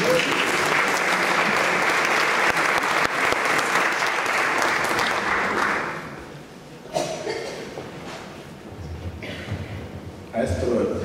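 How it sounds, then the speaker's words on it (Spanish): Audience applause at a music awards ceremony, a dense, loud burst of clapping that rolls on for about six seconds before fading, followed by a voice speaking over scattered remaining claps. "Un aplauso, por favor"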